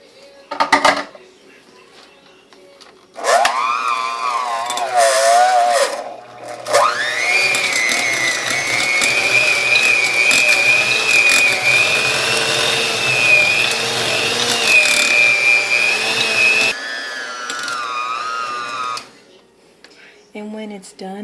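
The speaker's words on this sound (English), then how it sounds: "now we're going to beat and make the cream cheese mixture" An electric mixer beating cream cheese and butter in a large bowl whirs loudly and steadily for about fifteen seconds, its pitch shifting as it starts and slows. Clattering comes before and after it, and a person speaks at moments.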